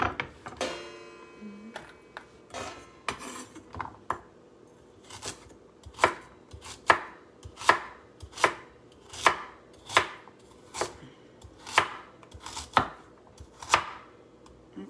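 Close, regular knife chops on a wooden board slice through carrots, the crunchy strikes coming evenly about once every second with no voices.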